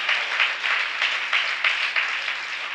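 A church congregation claps their hands in worship during a New Year promise message, loud, dense rhythmic clapping in a regular pulsing beat, full and close with no voices over it.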